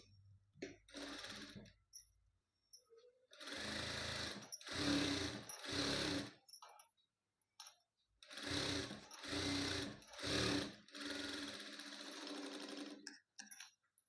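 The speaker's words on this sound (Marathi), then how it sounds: "अस्तर जोडून घेतलेले आता आपण ह्याच्यावर दापटीप देऊया" A sewing machine topstitches lining onto a garment sleeve in several loud, close bursts of rapid stitching, with short pauses between runs and no talking.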